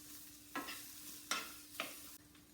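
Celery and broccoli stir-frying in a pan, with three short scraping stirs over a faint continuous sizzle, close and quiet.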